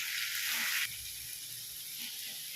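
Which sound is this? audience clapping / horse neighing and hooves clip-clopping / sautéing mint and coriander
sautéing mint and coriander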